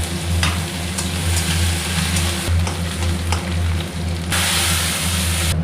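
Panch phoron, dried chillies, bay leaf, ginger and chopped onion fry in hot oil after fish, a loud continuous sizzle close up, with occasional scraping stirs and a brief louder hiss near the end.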